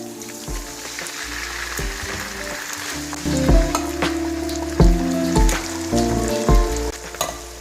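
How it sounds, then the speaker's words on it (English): Italian stewed tomatoes tipped into sizzling onions in a pan for a vegetable stew, a steady fry hiss with clunks of stirring and pouring growing louder partway through, no voices. "We're going to be adding our Italian stewed tomatoes."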